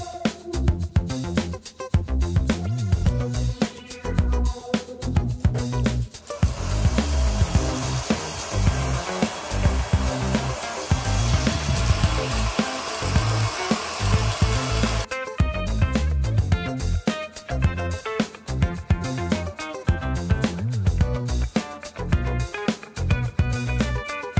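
A hair dryer blows with a steady rushing whoosh for several seconds in a small Korean hair shop, layered over continuous background music that keeps playing before and after.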